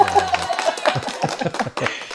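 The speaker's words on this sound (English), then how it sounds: "applause sound effect" A short burst of clapping plays as an applause sound effect, with a few quick claps over a couple of seconds.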